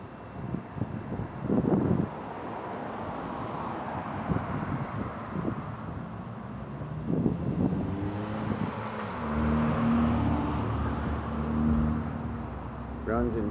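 A Honda Accord LXi pulls away and drives off, a low engine rumble and road noise mixed with wind buffeting on the microphone, with a voice talking over it.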